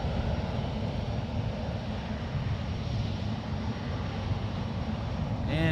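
Japan Airlines Boeing 777 taxiing out for departure at San Francisco International Airport, a loud, steady jet engine roar and low rumble holding constant from start to finish.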